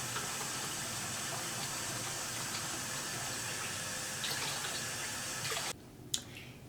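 Tap water runs steadily into a basin for hand-washing knitwear, with soap being added to make it bubbly; a continuous close rushing flow stops abruptly near the end, followed by a single small knock.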